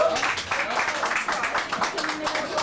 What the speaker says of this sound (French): On peut l'applaudir et on lui souhaite bonne chance.